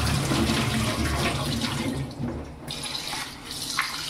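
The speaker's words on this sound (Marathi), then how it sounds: "आता त्याला स्वच्छ आपण धुवून घ्यायचं।" Steady rushing of running tap water as soaked rice is washed, with splashing and swishing, fairly loud and continuous, easing a little toward the end.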